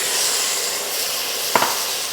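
Pigtail and smoked bones hit foaming caramelized sugar in a pot for Trinidad-style pelau, making a steady, close sizzling hiss with two brief clatters near the end.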